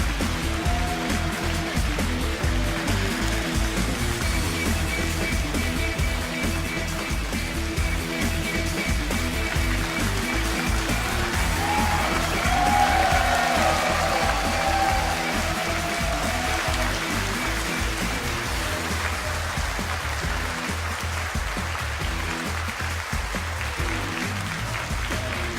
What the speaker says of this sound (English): what's it like to hear this crowd cheering your name after that win?